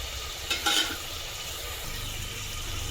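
Tomatoes fry and are stirred for cooker chicken biryani, giving a steady close sizzle with a brief scrape of the spoon against the pot near the start.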